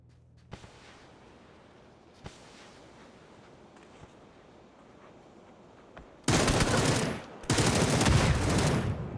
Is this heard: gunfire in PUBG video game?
yes